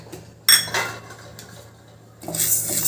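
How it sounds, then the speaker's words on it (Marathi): Ajwain and fenugreek seeds being lightly dry-roasted in a pan, heard as bursts of metallic spoon-on-pan scraping and clinks separated by a quieter pause, close and fairly loud. "हे सर्व आता आपल्याला हलकेसे असे भाजून घ्यायचे आहे."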